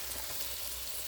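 Flank steak sizzling on a grill, a steady, even hiss holding for about a second without pauses, fairly quiet and heard alone.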